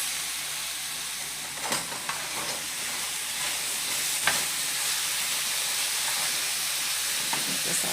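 A seasoned mixture of baked chicken and potatoes is stirred in a pan, with a steady hissing, sizzling wash and occasional soft scrapes and clinks of the spoon, close and continuous.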